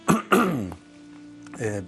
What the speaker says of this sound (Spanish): Perdón ahora digo, por una carraspera que ando con una angina y puede repetirse